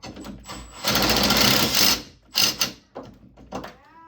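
A power drill whirs in a sustained burst, then stops and gives a few shorter spurts, close up with faint clanks between, while removing a Sea-Doo jet pump.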